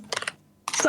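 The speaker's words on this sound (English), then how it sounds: "I have an aggressive keyboard." A quick burst of four or five sharp clicks from an aggressive, clacky computer keyboard is followed by a short pause and then a voice.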